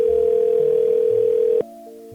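A steady telephone dial tone hums continuously for about a second and a half, then cuts off abruptly, leaving only a faint quieter tone and low background hum before a call is placed.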